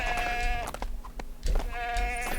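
A goat in the LEGO The Hobbit video game bleats twice, close and clear, each a wavering nasal cry separated by a short pause with game ambience underneath.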